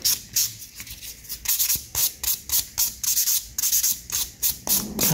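Coarse-grit side of a sponge nail file rubbed briskly back and forth across nails, a close, rhythmic series of short scratchy strokes, about fifteen passes at a steady quick pace.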